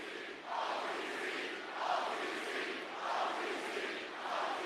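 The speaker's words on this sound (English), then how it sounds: "I like how the crowd's chanting OTC" A large arena crowd at WWE Raw chants OTC in a steady rhythmic cadence, loud and sustained, swelling in repeated waves with no other voices on top.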